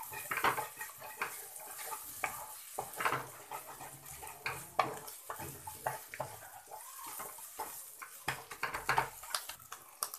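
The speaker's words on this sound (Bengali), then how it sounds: "এটা আমি ভালোভাবে এবার মিক্স করে নেব।" A utensil scrapes and clatters against a pan while fried egg and cabbage are stirred, giving irregular, close metallic knocks over a soft cooking hiss, with no voices.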